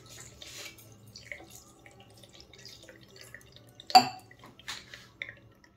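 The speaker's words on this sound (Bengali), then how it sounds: "এবার একটু ভালো জল দিয়ে ধুয়ে নেব।" Homemade paneer is rinsed with water, giving faint trickling and splashing with one sharper splash midway, close by and quiet.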